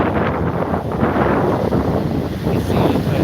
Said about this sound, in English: It is getting kind of windy out here.